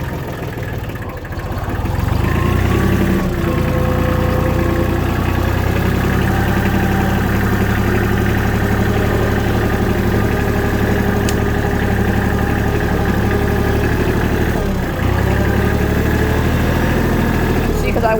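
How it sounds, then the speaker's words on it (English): An old little four-cylinder diesel motor idles steadily and close by, its low, even rumble running unbroken for the whole stretch. "Pretty sure it's an old little 4-cylinder Ford diesel motor."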